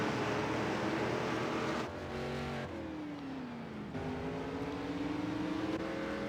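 Race cars roll slowly behind the pace car at Talladega in a K&N Series racing game, with steady engine drones and gently rising and falling tones throughout.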